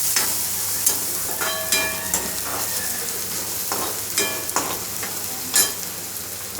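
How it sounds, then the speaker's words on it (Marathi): Brinjal and potato pieces stir-fried on a high flame, making a loud, close, continuous sizzle broken by repeated scrapes and clinks of the spatula against the pan, with no talk. "ती चांगली परतायची। गॅस फास्टच ठेवायचा आहे परतेपर्यंत।"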